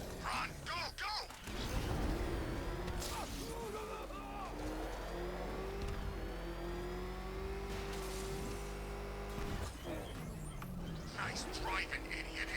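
Car engine driving in Arkham Knight, a sustained revving whine that rises and holds through a chase, with shouting voices and game effects over the top.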